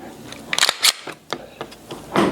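A Glock 19 Gen 6 pistol being handled, giving a quick series of sharp, close mechanical clicks and snaps from the slide and trigger reset, several separate clicks spread over a couple of seconds.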